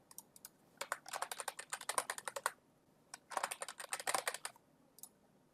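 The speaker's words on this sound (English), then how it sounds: "you want to enter in your current password" Someone types a password on a computer keyboard: two quick bursts of crisp, close key clicks, each lasting about a second and a half, separated by a short pause, in a quiet room without speech.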